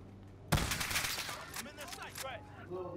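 A single sharp sniper rifle shot cracks out in a Call of Duty: Modern Warfare match, followed by a dense burst of gunfire and clatter, with a voice talking faintly through the tail.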